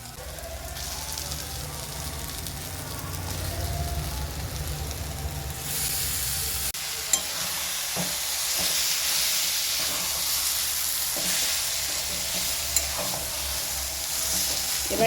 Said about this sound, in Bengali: এখন বেগুন পোড়াটা দিয়ে দিয়াম।